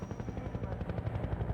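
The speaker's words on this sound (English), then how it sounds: "the Combine Attack Helicopter. This chopper relentlessly destroys a player's cover, forcing them to move forward or risk being gunned down" Combine Attack Helicopter in Half-Life 2, a loud rapid rotor thumping with a chattering low pulse that holds steady across the moment, and a thin high whine running above it.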